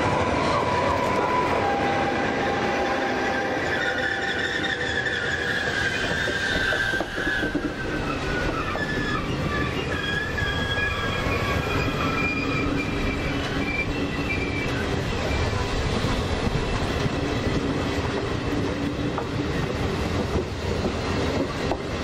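A train pulls into San Pietro in Casale station in Italy, loud and close, with a continuous rolling rumble and high, drawn-out wheel squeals throughout, no talk.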